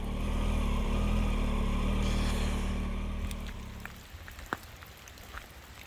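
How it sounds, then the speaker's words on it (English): Steady autumn rain falls through thinning trees around a Triumph Tiger motorcycle on a wet ride, a dense hiss that fades after a few seconds into scattered individual drops and ticks. "Not that we've got much cover from the trees now from the rain"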